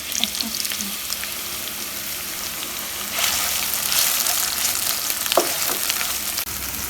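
A large onion frying in oil, a steady crackling sizzle that swells louder partway through, with a few stirring knocks and scrapes, close-up and without speech.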